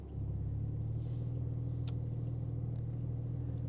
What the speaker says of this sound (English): so you guys can hear the difference when the valves open on that sports exhaust